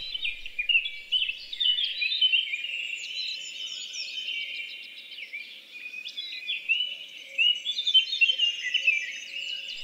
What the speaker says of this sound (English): We can hear blue tits. we can hear great tits and coal tits all around us singing out their song